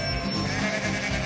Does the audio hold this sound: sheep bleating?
yes